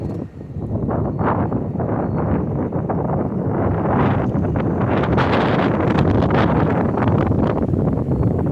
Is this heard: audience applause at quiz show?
no